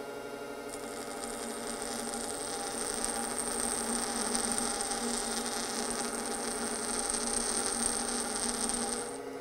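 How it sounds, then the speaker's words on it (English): Bench grinder steadily grinding a lathe tool bit, a continuous close whine with a high hiss of metal contact running unbroken throughout. "I'm just going to start grinding."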